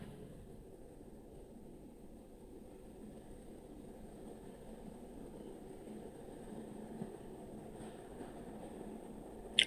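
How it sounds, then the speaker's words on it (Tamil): A suburban train running into Puzhuthivakkam station on the Velachery to St Thomas Mount line, a steady low rumble and rushing hum heard from inside, fairly even in level, with a small clank near the end. "இது வந்துட்டு புழுதிவாக்கம் ஸ்டேஷன் வந்து இப்போ நிற்க போகுது ட்ரெயின்"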